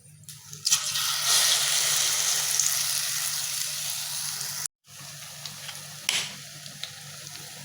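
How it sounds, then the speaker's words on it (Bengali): Bread and egg chop frying in hot, darkened oil, a loud close sizzle that cuts out abruptly, then resumes more quietly with a fresh burst and scattered crackles. "তো এই যে আমি লাল লাল করে ভাইজা নিমু"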